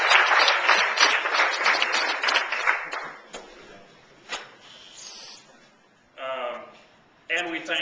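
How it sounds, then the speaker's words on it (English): Meeting attendees give a round of applause that starts fairly loud and tapers off over about three seconds, followed by scattered claps and brief speech. "And one more round of applause."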